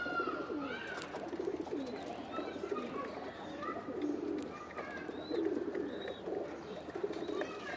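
Pigeons held for sale coo softly and repeatedly at close range, low throaty calls overlapping with faint chirps, under quiet background talk.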